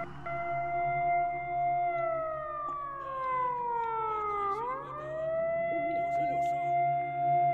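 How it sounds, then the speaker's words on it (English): An in-game siren wails in STALKER, a sustained tone that slides downward in pitch before rising and holding again. It plays at moderate volume under low background noise. "Is that the siren?"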